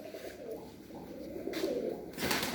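Soft, low coos from young pigeons close by, a few rolling calls in sequence, with light rustling in between.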